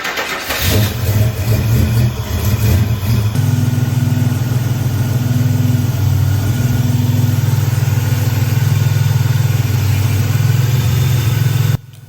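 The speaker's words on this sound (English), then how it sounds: "I'm gonna leave it up, I'm gonna let it run" A Buick Grand National engine with an oil leak runs steadily on a lift, a loud continuous idle with a low throbbing hum and faint pulsing, no voices, cutting off sharply at the very end.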